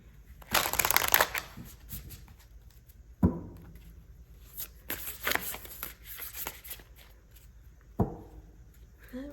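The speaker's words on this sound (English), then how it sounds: "Shuffle that one more time." Cards are riffle-shuffled in two quick flurries, each followed by sharp taps as the deck is squared, close and fairly quiet.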